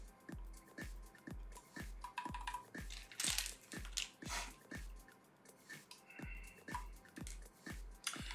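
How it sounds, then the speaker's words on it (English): Steady, evenly spaced keystrokes on a RAMA M60-A mechanical keyboard without its weight, each a crisp, hollow-sounding clack, close and fairly quiet, repeating about twice a second. "I can tell just by a few keystrokes that this board without the weight, it sounds very hollow"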